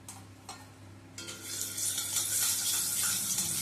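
Sugar stirred into hot mustard oil in a wok sizzles and crackles, starting quiet with a few scraping strokes and swelling into a loud, steady frying hiss.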